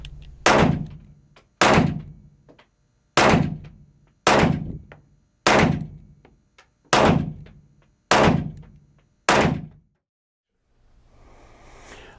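Handgun fired at an indoor shooting range, eight loud sharp reports spaced about a second apart, each with a booming echoing tail from the enclosed room, then silence and faint background noise.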